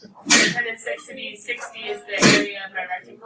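Two sharp sneezes ring out in a calculus classroom, one near the start and one about two seconds later, each a sudden loud burst cutting through a teacher's ongoing explanation.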